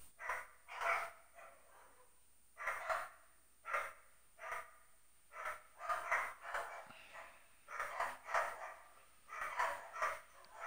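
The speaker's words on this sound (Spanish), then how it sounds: "Ya empezaron los putos perros a ladrar." Several dogs barking repeatedly in bursts, fairly close and loud, alone without talk over them.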